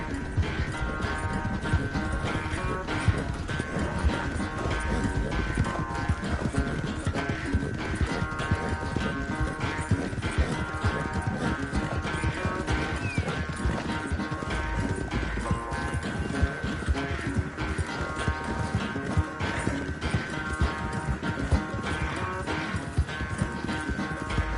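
A horse gallops in a race in the Red Dead Redemption 2 video game, its hooves pounding in a steady, rapid clip-clop. The galloping runs loud and close without a break, under constant game ambience and a sustained musical tone.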